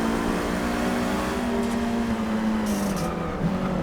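A 2014 Chevrolet Cruze WTCC race car lapping the Nordschleife in Forza Motorsport 6, its engine holding a steady high-revving drone with slight pitch shifts as it drives on, with no talking.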